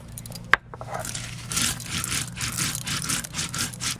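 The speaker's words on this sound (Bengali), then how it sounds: "সর্ষেটা বেটে নেব আর কাঁচা লঙ্কা এবার বেটে নিচ্ছি" Green chillies are ground on a stone grinding slab, with a sharp knock near the start and then continuous rough rubbing and scraping strokes, close and moderately loud.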